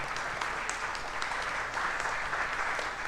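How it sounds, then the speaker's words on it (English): A studio audience gives a round of applause for a high school football team, steady, even clapping heard at moderate distance, sustained without a break. "Again, a big round of applause for them."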